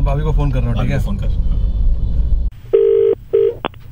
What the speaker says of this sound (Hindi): मैं भाभी को फोन कर रहा हूँ, ठीक है?